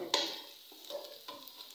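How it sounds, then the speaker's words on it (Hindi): Potatoes and other vegetables frying in a pan for an Afghani omelet, a faint soft sizzle broken by a few light stirring knocks and scrapes. "अब आलू साथ फ्राई भी होंगे और साथ गलेंगे भी"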